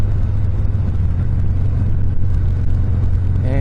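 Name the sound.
Harley Softail Fat Bob engine through repacked straight-through mufflers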